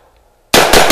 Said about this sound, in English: Let's pop off about 3 shots.